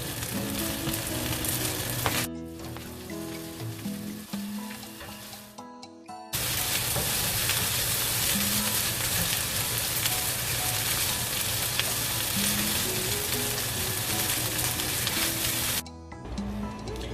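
Ribeye beef frying in a pan: loud continuous sizzle and crackle close up, with a short break partway through and a faint background melody, no voices.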